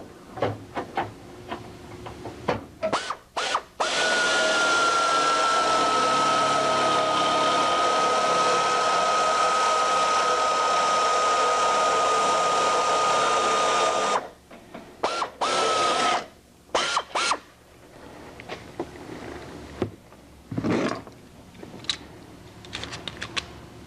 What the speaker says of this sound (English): Now we can finish drilling the skin to the rest of the ribs.